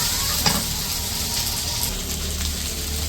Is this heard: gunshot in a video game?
no